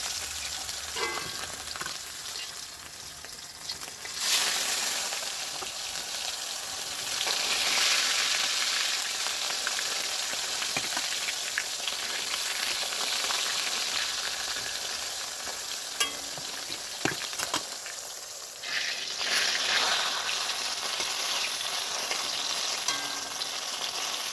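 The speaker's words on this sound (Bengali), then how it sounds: "বেগুন দিয়ে দিয়েছি বেগুন ভাজবো" Brinjal (eggplant) slices frying in oil in a wok, a steady close sizzle with occasional stirring scrapes and crackles running throughout.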